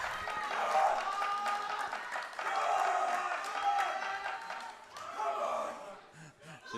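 A crowd at a powerlifting nationals meet cheers and applauds a woman lifter, a loud rolling mix of clapping and shouting from a hall, rising and falling in waves with voices throughout.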